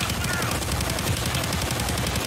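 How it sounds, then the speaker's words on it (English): Payday 2 video game gunfire rattles out as rapid, unbroken automatic bursts, loud and close, with the shots packed densely together across the whole moment. "you keep shooting your gun and it's actually lagging my game"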